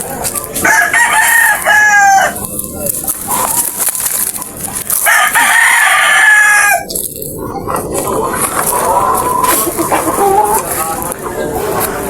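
A farmyard rooster crows loudly several times and clucks between calls, close to the microphone, while someone talks over and between the crows.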